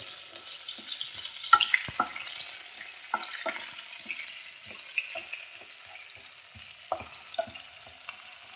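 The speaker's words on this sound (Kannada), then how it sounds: "ಫ್ರೈ ಮಾಡ್ತೀನಿ ನಾನು ಎಣ್ಣೆಯಲ್ಲಿ" Green chillies frying in oil, a faint low crackle with scattered sharp pops and stirring clicks spread irregularly across the clip.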